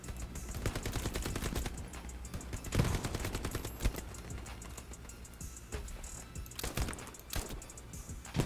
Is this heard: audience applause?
no